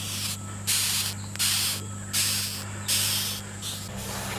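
Sharp bursts of hissing from a disturbed beetle dug out of garden woodchips repeat about five times in short pulses, close by, over a low steady hum in the background.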